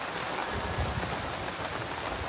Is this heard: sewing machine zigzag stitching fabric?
no